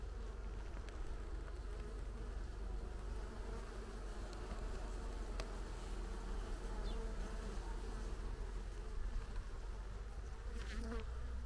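Dense, steady buzzing of many Carniolan honey bees close by at an open hive being smoked, a continuous hum with occasional sharper buzzes passing near, no talking.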